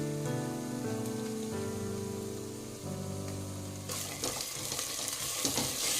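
Ginger-garlic paste hits a pan of fried onions for a chicken fry, and a bright, steady sizzle rises over the last two seconds after a stretch of background music.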